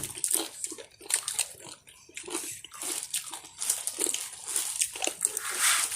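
Someone bites into crunchy raw eggplant, served alongside spicy papaya salad: a run of close, loud, crisp crunching bites and chewing in an irregular rhythm, with no talk.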